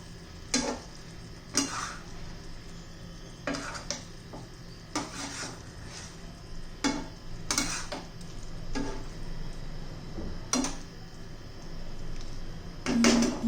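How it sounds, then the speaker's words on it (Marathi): Eggs mixed into masala on a pan, with a spatula striking and scraping the metal in irregular sharp clacks over a low background, close and clear. "आता आपली अंडी घालून घेऊ. आता मस्त असे मिक्स करून घेऊ."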